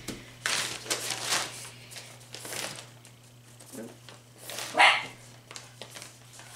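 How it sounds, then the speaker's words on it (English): A pet pup barks indoors in a few quick, fairly faint bursts beneath the crinkling and rustling of plastic packaging being unboxed. "Hear my pup barking?"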